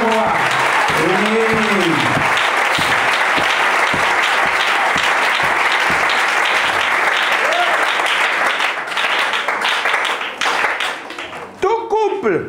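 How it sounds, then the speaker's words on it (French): A church congregation applauding, with loud, steady clapping filling the space throughout, while a preacher's voice calls out and rises over the applause. "On acclame Jésus, le roi des rois."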